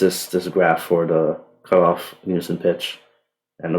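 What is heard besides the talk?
None of the usual background noises is heard.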